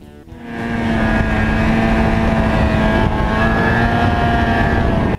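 1995 Ski-Doo Formula SS 670 snowmobile starting off and holding a loud, steady high-pitched two-stroke engine whine as it rides, close and alone with no talking.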